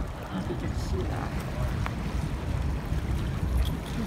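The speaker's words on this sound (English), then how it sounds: "Look at those ocean waves right there." Ocean waves wash in a steady broadband roar, fairly close and continuous, with wind noise mixed in and no clear breaks between them.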